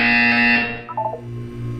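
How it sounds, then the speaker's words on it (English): A loud electronic buzzer in the video game Portal 2 sounds as a steady harsh tone for about half a second, then cuts off, followed by a few brief softer tones over a low hum. "When you hear the buzzer, look down at the floor."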